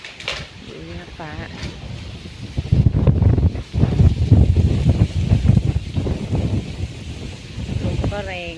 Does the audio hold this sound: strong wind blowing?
yes